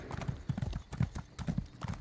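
Horse hooves clip-clop in Elder Scrolls Online, a quick, regular run of fairly quiet, close hoofbeats.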